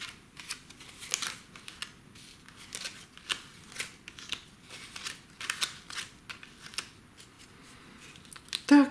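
A deck of 36 fortune-telling cards is handled and shuffled close up, giving light, crisp flicks and soft snaps in an uneven rhythm, faint and without talking.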